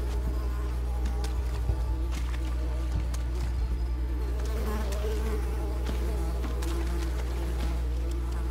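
Steady, droning buzz of bees in the Berry Mire level of the platform game Unravel, continuous and fairly loud over a low ambient hum, with no talking.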